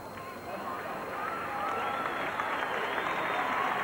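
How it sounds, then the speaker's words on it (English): Rugby league crowd at Leichhardt Oval in 1987, Balmain against Canberra, cheering and applauding a second rower, a steady broad roar of clapping and shouts that swells after the first half second and holds loud throughout. "Well, he deserves the crowd's cheer."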